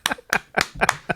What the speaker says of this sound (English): We got a round of applause over there.